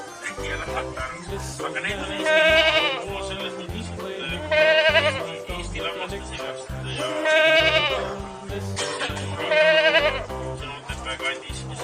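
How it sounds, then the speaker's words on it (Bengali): A young goat bleats in four wavering bursts spaced a few seconds apart, riding over a steady, rhythmic musical backing. "ছয়ে ছাগল ছানা লাফিয়ে চলে"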